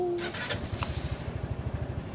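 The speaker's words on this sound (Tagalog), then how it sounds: "Ito yung motor natin." A motorcycle engine sputters into a steady, rapid puttering idle after a short clatter, close by and moderately loud.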